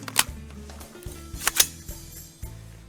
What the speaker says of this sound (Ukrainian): Заряджаємо магазин з одним патроном.